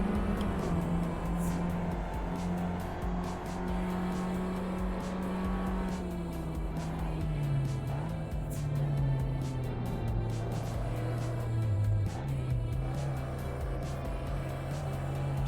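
Racing cars in the driving game Assetto Corsa roar continuously as the engine pitch climbs and drops through gear changes, with tyre noise, loud and steady throughout without talking.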